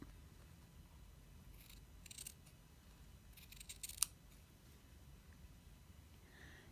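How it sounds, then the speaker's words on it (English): Scissors snip through quilt batting along a seam in a few faint, scattered cuts against a very quiet room, with one slightly sharper snip near the middle. "You can see I've cut my batting away on both sides of the seam here"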